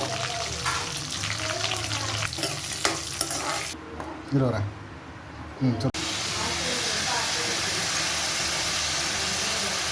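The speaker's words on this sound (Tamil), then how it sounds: "கருவேப்பிலை பொறிச்சு வந்ததும் இந்த காஞ்ச மிளகா கிள்ளி வச்சுருக்கோம் இல்லைங்களா அதையும் கூட சேர்த்துக்கோங்க" Curry leaves and torn dried red chillies frying in hot oil for chicken uppu curry, a steady loud sizzle with stirring scrapes throughout and a brief quieter dip partway, with speech in the background.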